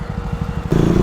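A motorcycle engine idles with a steady low pulsing thump, then revs up louder near the end of the second, close by and alone.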